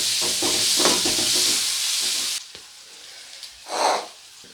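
Onions frying in oil until lightly browned hiss loudly and steadily, then the sizzle drops off abruptly, leaving quieter sputters and one brief swell of sizzling.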